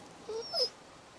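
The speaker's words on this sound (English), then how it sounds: "The dog is hungry." A hungry dog lets out two short, high, thin whimpers in quick succession, faint against a quiet background.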